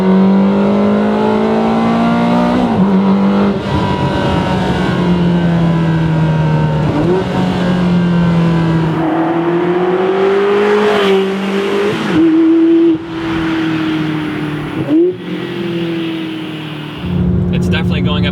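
Ferrari 360 fitted with a Tubi exhaust revs hard and loud, its engine note climbing and dropping through several gear changes over a steady drone, heard from close by with speech-like sounds mixed in.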